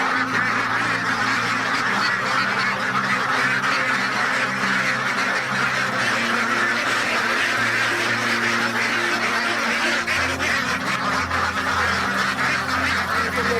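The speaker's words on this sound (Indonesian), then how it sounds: "Bebeknya ini saya cek dulu." A dense flock of ducks on a duck farm quacking and honking continuously, a busy overlapping chorus of many birds close by with no pauses throughout.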